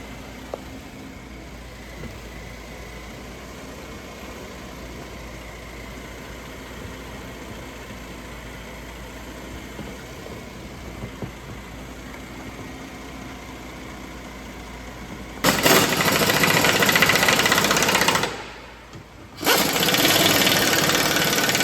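A 2013 Kia Sorento 3.5L AWD engine idles with a low, steady hum for most of the stretch, then a loud broadband hiss or rush cuts in near the end, briefly drops out, and returns.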